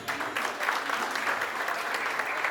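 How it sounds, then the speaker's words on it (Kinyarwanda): Crowd applause fills a Burundian traditional wedding, a dense wash of clapping from many hands that swells and holds steady through the short stretch. "Twongere tubakomera amashyi"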